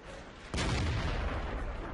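A single loud tank cannon blast in the video game World of Tanks, a sudden heavy boom whose rumbling tail carries on for over a second, with no talk.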